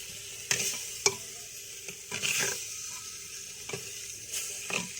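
Chili powder and sambar powder frying in a pan for hotel-style sambar, a steady close sizzle with a few sharp scraping stirs and clinks of a spoon against the pan, no talk.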